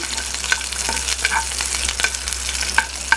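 Egg 65 pieces frying lightly in a pan, giving a steady close sizzle with scattered spatter pops and a few stirring scrapes throughout.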